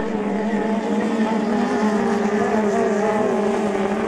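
Hydroplane racing boats at the Eppalock Cup 2024 hydroplane race give a loud, steady engine roar held for the whole stretch as two boats battle closely through a turn, with no pause in the sound.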